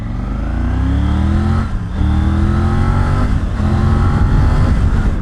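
A Triumph Tiger 850 Sport motorcycle engine pulls hard through rising gears, its tone climbing steadily, then dipping briefly near two seconds before climbing again, loud and close with no talk.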